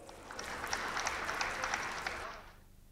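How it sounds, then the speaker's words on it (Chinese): Audience applause at the 2019 Harbin Fashion Week opening ceremony: a steady, dense crowd clapping with scattered sharper claps, fairly close and fading out near the end. "让我们把掌声再一次献给王总"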